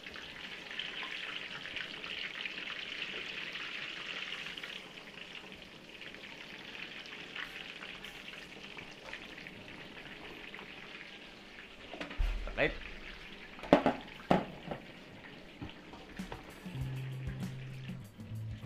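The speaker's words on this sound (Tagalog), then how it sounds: "Dito po ay prito natin yung ating pamputsero." Steady hissing sizzle of boiled pork frying in oil, with occasional clatter and thumps of a utensil near the end.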